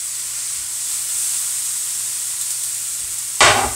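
A cup of vegetables hitting a hot frying pan gives a steady, bright sizzle, then a sudden louder hissing burst near the end as more food lands in the pan. No one speaks.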